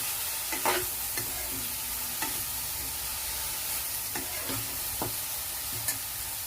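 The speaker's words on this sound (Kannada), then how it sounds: "ಈಗ ಎಲ್ಲ ಮಿಕ್ಸ್ ಮಾಡಿ ಫ್ರೈ ಮಾಡ್ತೀನಿ ನೋಡಿ." Capsicum frying in oil with curry leaves, cumin and mustard seeds, a soft continuous sizzle broken by several sharp scraping stirs of a spatula across the pan.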